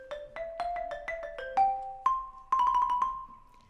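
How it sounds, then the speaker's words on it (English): Crisp xylophone notes play a quick Bach melody, single struck tones ringing briefly then ending with a cluster of rapid repeated notes. "This is what the timbre of the xylophone sounds like on the same piece by Bach that I played."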